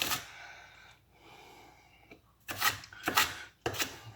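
A kitchen knife chopping ingredients for a breakfast burrito: quiet scraping and rubbing at first, then three sharp, close strikes spaced about half a second apart near the end.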